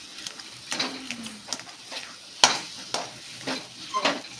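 A spoon stirs sweet potato shiro cooking in ghee in a heavy-bottomed pot, giving repeated scraping strokes and soft clinks against the pot over a low sizzle, close and moderately loud, with one sharp knock partway through.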